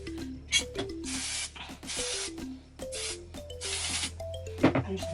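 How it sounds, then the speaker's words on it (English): A hair root-volume pump spray sprayed into curly hair at the roots, giving several short hissing bursts in quick succession amid soft rubbing and handling noises, close and fairly quiet. "So with this root pump spray, I'm literally just gonna spray it into the hair, mainly focusing it at the roots."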